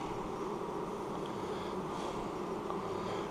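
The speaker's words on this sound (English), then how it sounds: "Bees look good." Honey bees hum steadily around an opened hive frame during a late-season inspection, a dense, even drone of many wings close by with no talk over it.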